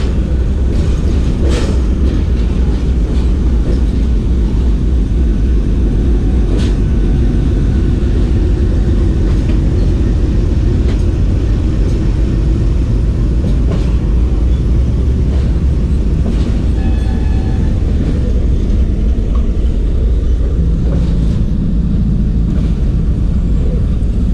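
A 6 Down Green Line passenger train hauled by a GE Blue Tiger locomotive rumbles loudly and continuously nearby, with rolling wheel noise and faint clatter throughout, no one speaking.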